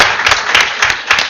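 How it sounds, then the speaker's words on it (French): A short burst of audience applause at a women's day testimony gathering, with a few fairly loud, close individual claps standing out from a steady crowd patter. "Bon, on l'applaudit aussi."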